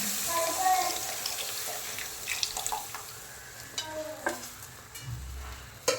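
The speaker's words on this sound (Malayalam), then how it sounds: "ശേഷം നമ്മളിവിടെ മാറ്റി വെച്ചിരിക്കുന്ന വാളൻപുളി വെള്ളം ഇത് നന്നായിട്ട് പിഴിഞ്ഞത് അതിലേക്ക് ഒഴിച്ചു കൊടുക്കുക" Squeezed tamarind water is poured into a simmering fish curry, with liquid splashing and trickling over a gentle bubbling hiss and a few utensil clinks, while faint talk can be heard in the background.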